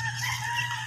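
Backyard chickens in an enclosure being fenced with netting cluck and call briefly, close and moderately loud, with no talking.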